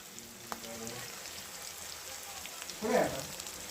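Pav bhaji vegetables with salt sizzling and cooking in a pan, a soft steady frying hiss that swells briefly louder near the end, heard alone.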